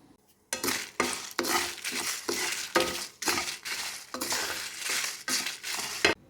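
Chili, coriander, turmeric and fennel dry roasting in a pan, stirred with a series of rhythmic scraping, rattling strokes broken by short pauses, close and clear with no talk.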